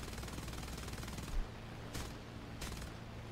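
Aircraft guns in War Thunder rattle in a sustained rapid burst, then stop, followed by two shorter bursts at even intervals, loud and close.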